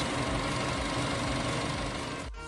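An Eicher CNG BS VI truck engine runs steadily during an injector cutoff diagnostic test, giving a dense, even mechanical drone that dips sharply near the end.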